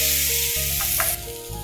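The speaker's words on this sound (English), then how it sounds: "some curry leaves, we'll add some urad dal and we'll let this brown." Curry leaves and urad dal frying in a hot pan give a loud, bright sizzle with a few stirring scrapes, briefly dropping in intensity partway through, with no voices.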